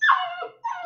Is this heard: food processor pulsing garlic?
no